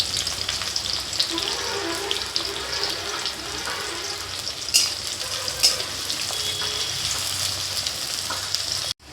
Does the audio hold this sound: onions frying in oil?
yes